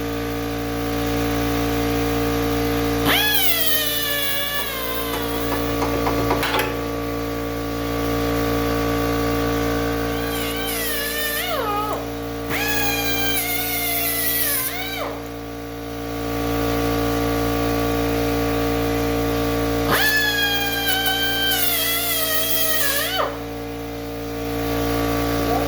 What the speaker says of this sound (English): We're cutting off the tow hook so the intercooler piping can route in